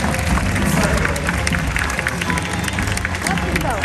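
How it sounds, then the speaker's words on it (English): Crowd applause and cheering at a crocodile show at Australia Zoo, a loud continuous wash of clapping from an outdoor audience with chatter and noise mixed in. "Give him a round of applause"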